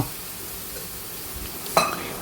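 Frying food with dried plantain and beans being stirred in a pan: a steady close sizzle under a scraping stir, with a sharper clatter of the utensil near the end.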